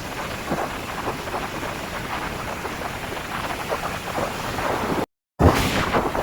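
Steady, broadband rush of morning sea waves at Bakkhali beach washing in continuously, with a brief dropout of silence near the end before the surf resumes.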